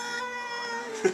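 A frightened cat lets out a sustained, tense, tonal yowl close by. It ends in a brief sharper bump of sound.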